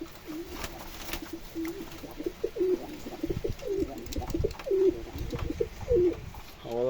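Soft, repeated cooing from tumbler pigeons, several low throaty calls in an uneven rhythm, with faint background noise and some rustling.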